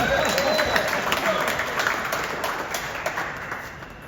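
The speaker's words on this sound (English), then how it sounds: "Give him a round of applause, ladies and gentlemen." A live show audience gives a round of applause for a volunteer pulled from the crowd, a sustained even patter of many hands that slowly fades, with some voices underneath.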